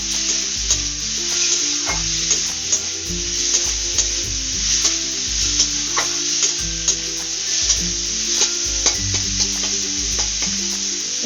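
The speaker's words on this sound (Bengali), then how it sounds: "এবার আমি এর সঙ্গে এই যে চিংড়ি মাছটা নেড়ে চেড়ে ভেজে নিব" Shrimp stir-fried in a pan with onions and spices, a steady loud sizzle with repeated scraping stirs of the spatula, close-up and without talk, over faint tonal background music.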